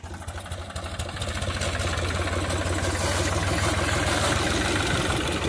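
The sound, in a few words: tractor engine running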